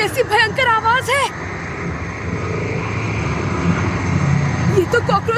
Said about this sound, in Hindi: ये तो कॉकरोच के चलने की आवाज है।